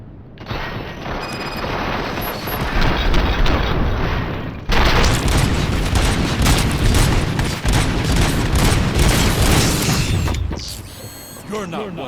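Heavy gunfire and explosions fill a RoboCop: Rogue City video game battle, dense and loud with continuous bursts and booms, while voices talk over the fighting.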